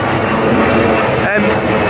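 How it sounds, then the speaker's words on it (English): A fixed-wing aeroplane flies overhead, its steady engine roar loud and continuous, with a person talking over it. "Another aeroplane."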